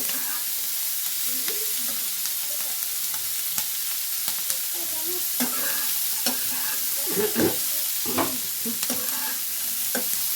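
Cauliflower stirred as it fries in oil over low heat, with a steady sizzle broken by frequent close scraping strokes of a spatula across the pan.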